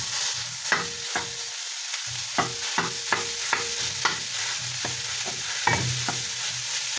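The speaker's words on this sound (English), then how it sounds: "So then we're gonna go in with half a kg of minced meat" Half a kilogram of minced meat fries with onions in a pan, bright continuous sizzle punctuated by a series of sharp spatula taps and scrapes at an irregular pace.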